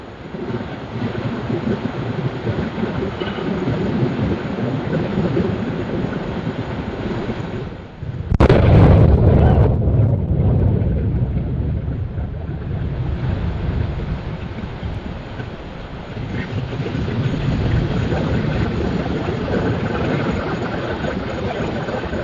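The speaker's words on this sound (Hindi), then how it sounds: "तो सबसे पहले आप इस रॉकेट ब्लास्ट का ये पहला वीडियो देखिए।" A New Glenn rocket explodes: a sudden heavy boom bursts out midway, followed by a long, rolling rumble over steady wind-like noise that slowly settles back to a dull roar.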